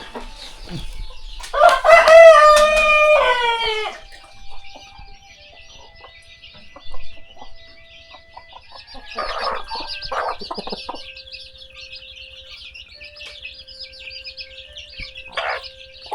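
Roosters and chickens on a rural southern Lao farm in the morning: a loud close crow near the start, then scattered clucks and calls with steady bird chirping in the background.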